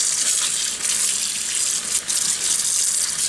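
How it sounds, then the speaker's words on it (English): Vine leaves rinsed under a running kitchen tap, a loud steady gush of water splashing into a sink, without pause. "that is the way how I wash my vine leaves"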